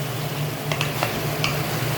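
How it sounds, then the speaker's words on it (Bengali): Pointed gourd, potato and paneer with spices sizzle steadily in a pan during sautéing, with a few light scraping ticks from stirring, up close and without talk. "সবজিটা কষতে দেব"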